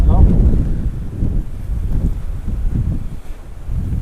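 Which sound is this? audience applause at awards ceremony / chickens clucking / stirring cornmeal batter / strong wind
strong wind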